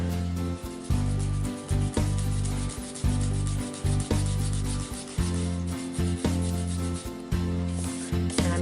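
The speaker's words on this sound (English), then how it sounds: "I'm going to slowly pull the color across, blending with the pink as I go" An ink blending tool scrubs colour across a die-cut card, a close, steady rasping rub repeated in quick strokes of roughly half a second each, loud and rhythmic with brief pauses between passes.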